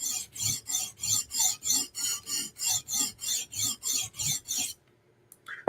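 A knife drawn across a 400 grit whetstone in about fourteen steady, evenly spaced rasping strokes, close and clear, ending in near silence.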